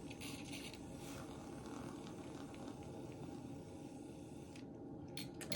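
Milk frothed with a French press plunger, a continuous low churning, bubbling rumble that stays steady and soft for several seconds, ending with a couple of brief higher clicks.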